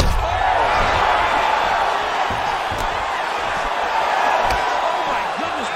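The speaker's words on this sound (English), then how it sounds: "An appreciative crowd obviously getting behind both fighters." A dense arena crowd roars steadily behind the fighters in the UFC 5 video game, a continuous loud wash of cheering and shouting with occasional sharp thuds, no clear talk on top.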